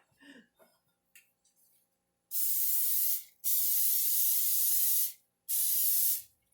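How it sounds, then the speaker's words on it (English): Three long bursts of cooking spray from a can coat an Instant Pot bowl, each loud, close and steady hiss lasting about a second, separated by short pauses, after faint handling noises. "And then you want to spray it really well"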